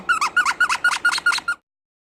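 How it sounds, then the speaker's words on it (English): A squeaky toy squeaks seven times in quick, even succession, each squeal bright and close, then silence. "A squeaky toy."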